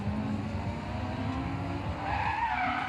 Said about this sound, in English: Nice little handbrake entry there to get sideways